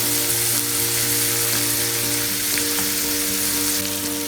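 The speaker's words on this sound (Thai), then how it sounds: "นำดักแด้ ใส่ลงไปผัดเลย" Silkworm pupae stir-fried in a pan with browned chili and garlic, a loud, steady oily sizzle and crackle running throughout, with no voices.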